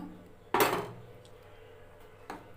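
A metal spoon clinks twice against a pot while urad dal porridge is stirred, each knock sharp but quiet, separated by almost two seconds of low background hum.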